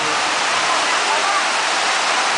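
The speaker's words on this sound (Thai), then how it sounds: "นี่แหละฝนตก" Steady, dense hiss of rain falling, a continuous even wash of noise with no distinct drops or breaks, heard alone and close.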